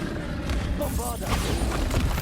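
A Bombarda explosion spell goes off in Hogwarts Legacy, a booming thud with a brief crackling burst around the middle of a short stretch of dense game noise, with a voice present.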